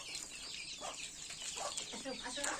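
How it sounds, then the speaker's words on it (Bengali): Desi chickens on a home poultry farm cluck and chatter in short overlapping calls at close range, over a steady hiss of background noise. "এই দেখছেন দেশি মুরগির খামার আমার"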